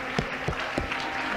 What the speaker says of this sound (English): Clap your hands to the Lord and give Him praise.